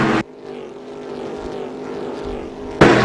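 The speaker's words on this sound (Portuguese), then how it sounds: "Com barulho dos quase 30 e agora 36 carros passando ali." Stock Car race cars at Londrina in 2006, a pack of roughly 30 to 36 cars roaring past together, a sustained engine drone between two loud bursts at the start and end.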